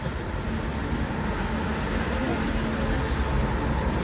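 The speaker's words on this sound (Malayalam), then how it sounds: "പ്ലാറ്റ്ഫോം നമ്പർ 1 അതാ നിങ്ങളെ ട്രെയിൻ വരണു" A train arriving at platform 1 of a railway station, a continuous low rumble and rolling roar that stays steady and fairly loud across the whole stretch, with no clear voices.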